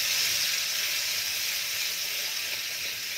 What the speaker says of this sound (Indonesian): Digoreng seperti ini sampai aromanya harum.